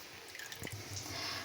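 Water drips and trickles faintly off freshly washed liver (kaleji) as it drains, with a few soft, close drops standing out in a quiet kitchen.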